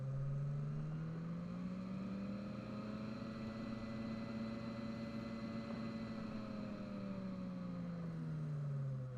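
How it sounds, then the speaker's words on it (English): A fan organ runs with its motor turned up, sustaining a steady, loud chord whose pitch swells upward and then sinks back over several seconds, with no voices. "once I turn the motor up, it plays very fast"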